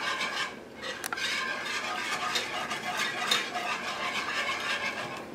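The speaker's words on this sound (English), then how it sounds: "Whisk that in." Cheese being whisked into a creamy Alfredo sauce for chicken and zucchini fettuccine, a steady wet scraping and swishing that runs without a break at close range, with one brief sharp click early on.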